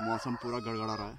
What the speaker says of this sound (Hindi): ये मुर्गे भी यार खास टाइम में चिल्लाते हैं।